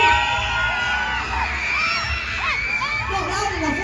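A crowd of riders, many of them children, screams and whoops on the Toucan Tours ride at Fantasy Island amusement park, a dense and steady wall of shrill voices that stays loud the whole time.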